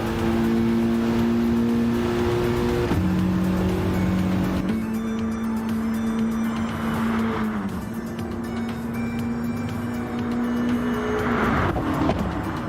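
A race car engine in a racing video game screams at full throttle, loud and sustained, its pitch holding steady then dropping and climbing again as gears shift across the run.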